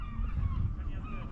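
Many seabirds calling at the sea cliffs of Howth, Ireland: overlapping honking, goose-like cries over a low, steady outdoor rumble.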